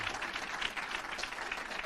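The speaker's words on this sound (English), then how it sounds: "You can do a warmer clap than that." Audience applause at an ATNS 30-year anniversary event as a speaker walks to the podium: steady, moderately loud clapping from a sizeable crowd, even in texture and continuous from start to finish.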